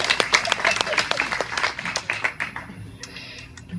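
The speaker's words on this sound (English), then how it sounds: "Round of applause, guys." A small crowd at a wedding vows gathering in Sacramento breaks into applause, dense close clapping that tapers off over a few seconds, with scattered voices beneath.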